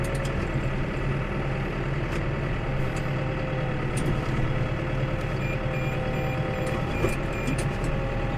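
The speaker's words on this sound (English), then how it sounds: "if you're going to do any work with a cold engine, revving is better than labouring" A farm engine idling to warm up from cold, a steady low rumble and hum running throughout at even level, with a few faint clicks and taps over it.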